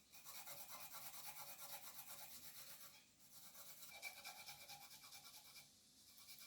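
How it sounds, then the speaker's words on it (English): Fresh ginger is grated on a grater for Jamaican-style sweet and sour pork, producing quiet, rapid, rhythmic rasping strokes that pause briefly before continuing. "So I am in the process of grating my ginger."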